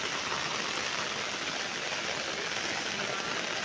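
A downpour of heavy rain soaks a flooded village, producing an even, unbroken rushing wash of water that stays loud and close throughout.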